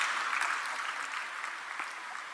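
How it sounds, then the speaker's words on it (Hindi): Audience applause welcoming an award recipient at a ceremony, a steady dense clapping from a crowd that holds evenly for the whole stretch with no voices over it. "श्री एकांत जैन जी के लिए जोरदार तालियां स्वागत करेंगे उनका भी।"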